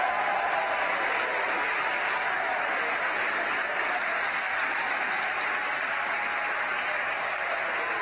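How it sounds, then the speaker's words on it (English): A distant crowd cheers and applauds during the SpaceX Falcon 9 Crew-3 launch broadcast, a steady roaring wash of clapping and voices that stays at an even level throughout. "I believe the cheering in the background"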